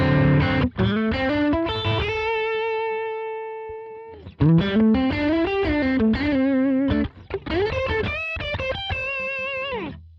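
Electric guitar run through a Line 6 Helix Retro Reel tape simulator with the tape speed being adjusted, playing sustained distorted chords and bends with a chorus-like warble, loud and close, with brief pauses between phrases.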